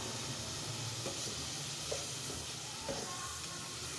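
Sugar melting into a watery syrup with pumpkin for halwa, giving a faint continuous sizzle and hiss with a few soft stirring clicks, heard alone at low level.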